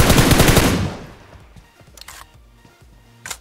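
An M4 rifle spray in PUBG Mobile: a loud, dense, rapid automatic burst lasting about a second, then fading into quiet debris and clatter with a short sharp crack near the end.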